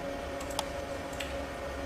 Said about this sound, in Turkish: Klavyeden alt tuşuna bastım.